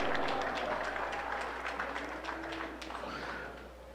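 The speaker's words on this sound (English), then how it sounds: "one more round of applause for these 4-H members and their tremendous group of" An arena crowd gives a round of applause for 4-H members after their commercial cattle class at a provincial beef show, a steady patter of clapping that slowly fades, with faint voices underneath.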